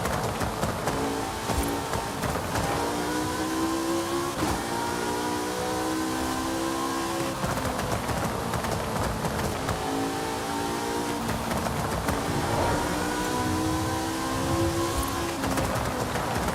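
Super speed car in Forza Horizon 5, its engine revving steadily and loudly with repeated rising and falling pitch sweeps as it accelerates and shifts, close and continuous with no talk.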